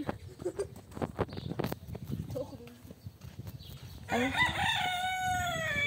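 Chickens and a rooster in a coop: scattered clucks and shuffling up close, then a loud drawn-out rooster crow cutting in near the end.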